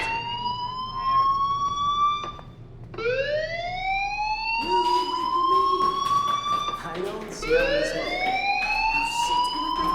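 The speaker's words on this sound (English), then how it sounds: "do you hear that fire alarm? That means you should be outside." A fire alarm blares in the game Life is Strange, a loud wailing tone that sweeps upward again and again in overlapping rising cycles, with faint clatter beneath.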